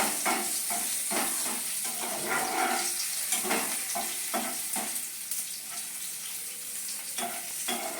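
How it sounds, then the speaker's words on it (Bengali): Dried fenugreek leaves (kasuri methi) sizzling in hot oil for a paneer curry made without onion or garlic: a close, crackling sizzle broken by scraping stirs from a spoon in the pan. "কসুরি মেথি ফোড়ন দিয়ে দিলাম"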